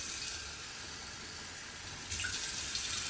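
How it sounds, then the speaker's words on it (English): Running tap water pours into a pot for herbal steamed chicken soup, a steady close splashing stream that grows louder and brighter near the end, with no talking. "And I'm also adding a bit of water."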